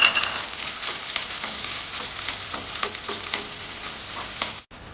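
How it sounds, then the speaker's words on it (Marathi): Garlic tempering fries in two to three spoons of hot oil, giving a steady close sizzle and crackle with small pops and stirring scrapes throughout, ending in a brief cutoff. "1 लसणीचो कांदो घेतला, तो बरो सोलला आनी बरो धाडून घेतला. तेजी आतां फोडणी करता."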